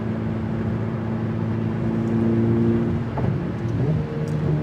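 Ferrari 488 Pista supercar cruising on the Autobahn, a steady loud engine drone with layered harmonics and a slight rise in pitch near the end, no voices.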